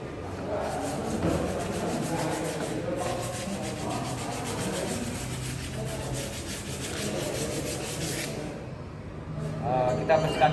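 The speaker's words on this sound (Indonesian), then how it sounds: "Kita akan membersihkan kanvas rem menggunakan amplas" Steady rubbing and scraping of sandpaper against a car's brake shoe linings during brake servicing, a continuous gritty back-and-forth texture with voices speaking over it.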